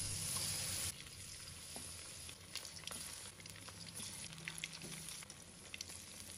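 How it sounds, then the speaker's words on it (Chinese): Egg- and starch-coated chicken legs fry in hot oil, a loud, steady crackling sizzle with dense sharp pops throughout, slightly louder at the very start when the pieces go in. "然后将鸡腿一个一个放入锅中。"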